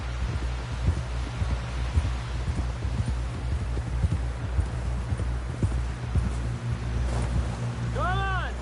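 Horse hooves clip-clopping at a steady trotting rhythm in the Western video game Red Dead Redemption, over wind and background noise, with a voice speaking near the end.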